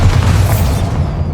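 A Bombarda spell explosion in Hogwarts Legacy, one loud, broad booming blast with a heavy low rumble that fades away over about a second, without any voices.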